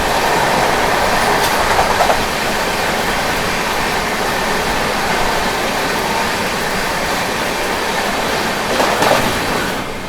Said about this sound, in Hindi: ये रही आप लोगों की विशाखापट्टनम नई Delhi AP express Tamil Nadu superfast express overtake कर रही है।